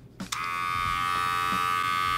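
A wireless men's electric razor switches on with a brief clatter and then runs with a steady, close, high-pitched buzzing hum that holds at constant loudness, with no voices.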